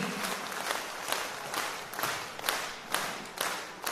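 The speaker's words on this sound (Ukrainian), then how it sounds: "Ваші гучні оплески" Festival crowd at the Krolevets Rushnyky festival applauding, a steady wash of many hands clapping with rhythmic swells roughly every half second, as if the audience claps partly in time.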